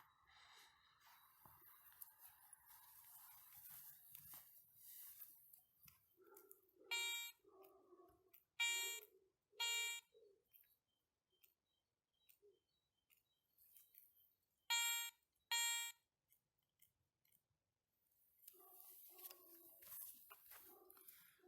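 A Garrett 400i metal detector sweeps over a single buried kopek coin at 20 to 25 cm in soil, giving a few short, faint electronic tones that break intermittently from quiet hiss, with softer ambient noise at the start and end.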